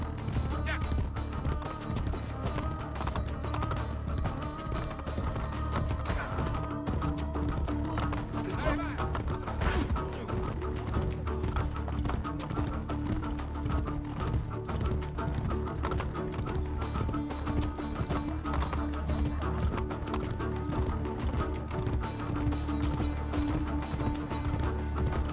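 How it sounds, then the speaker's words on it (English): Steady clip-clop of horse hooves trotting continuously, with an occasional whinny, over a soft ambient music bed in Assassin's Creed: Brotherhood. "Nice, relaxing horse ride."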